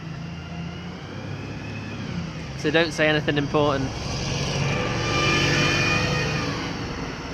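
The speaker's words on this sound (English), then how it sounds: "Because the bus is coming up now" A bus approaches along a road, its engine rumble gradually swelling in the background. A person speaks briefly over the traffic noise.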